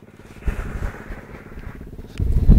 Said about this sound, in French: celui-là qui a la plus petite moto, il arrive